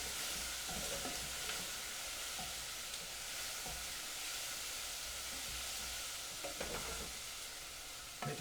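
Onions with chopped herbs caramelizing in a pan for onion soup, a steady close sizzle and hiss throughout with occasional stirring scrapes, no talking.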